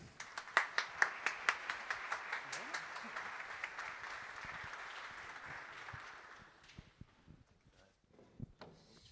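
Audience applause for a fintech company team at a presentation, starting with loud, rhythmic synchronized claps that dissolve into looser scattered clapping, then fade to a few isolated claps and light room noise.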